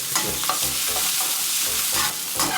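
Garlic hits hot oil in a pan and sizzles loudly and steadily, with soft scraping stirs mixed into the constant close frying hiss.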